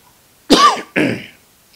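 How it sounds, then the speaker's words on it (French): Two harsh coughs in quick succession, close and loud, with a short pause between them and quiet afterward. "M'excusez, c'est naturel, il faut tousser."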